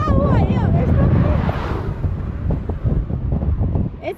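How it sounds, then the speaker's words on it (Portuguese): Strong wind buffets a microphone on a road trip along Ruta 40 toward Ushuaia, a loud continuous roar with gusty swells, while people talk over it. "Ó, o vento."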